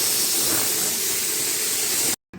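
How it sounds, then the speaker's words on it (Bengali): Aloo paratha frying on a hot griddle at a roadside dhaba on the NH-35 highway gives a loud, steady sizzling hiss close by, cutting off abruptly near the end with no voices. "ওখানে বেলা হচ্ছে আর ভাজা হচ্ছে আলুর পরোটা।"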